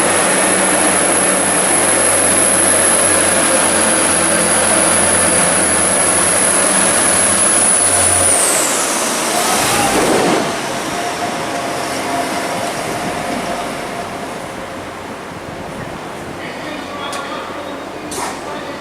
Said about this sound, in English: Now departing is 175-103 with the service bound for Llandudno